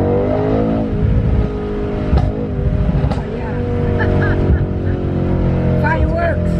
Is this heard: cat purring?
no